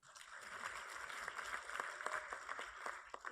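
An audience applauds during the introductions at a CSU Academic Senate panel: a steady patter of many hands clapping at a modest distance, sustained for a few seconds and fairly quiet.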